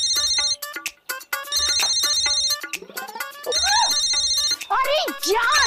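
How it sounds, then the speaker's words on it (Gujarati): A phone ringtone chirps in repeated electronic bursts at close range in a household comedy scene, with voices, including a child's, talking between and over the rings. "તારો ફોન વાગે."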